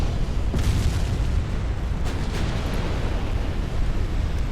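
Ships blowing up in the naval game Ultimate Admiral Dreadnoughts, set in a British 1900 campaign: a dense, continuous low rumbling roar of explosions with a few sharper bursts layered on top, loud and sustained with no talk.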